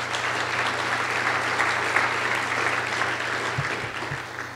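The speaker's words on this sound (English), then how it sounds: "give a round of applause for our advisory board" An audience at a business summit claps for the advisory board, a steady, moderately loud round of applause lasting several seconds with no pause.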